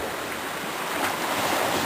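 Sea waves wash against a rocky shore at Kastro, a broad hissing surf with wind noise that swells slightly toward the end, heard alone and close for under two seconds.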